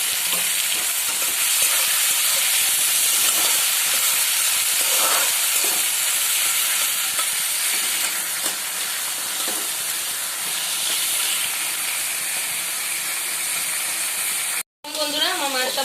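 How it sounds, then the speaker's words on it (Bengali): Shrimp frying in oil in a kadai, a continuous loud hiss and crackle of sizzling with faint stirring and occasional soft voice sounds underneath, cutting off briefly near the end. "দেখুন চিংড়ি মাছটা ভেজে নিচ্ছি।"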